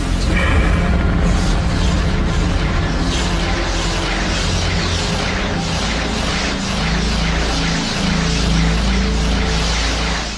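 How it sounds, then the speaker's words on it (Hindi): A loud, rumbling explosion-like roar fills the whole stretch, dense and sustained with deep booming swells rather than a single blast. "हमारे ब्रह्मांड में अचानक विस्फोट हो गया"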